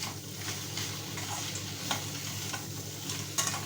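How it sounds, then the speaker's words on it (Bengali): Pasta fries in a pan with a steady soft sizzle and occasional stirring scrapes, close and continuous, with no talking. "পাস্তাটা আমি এর মধ্যে একটু ভেজে নেব।"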